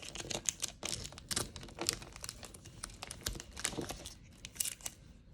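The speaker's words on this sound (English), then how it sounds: "Place a piece of tape on there to keep it together." Tape crinkles and is pressed around a paper bottle craft in a quick series of close, crisp rustles and taps, fairly quiet with no talk.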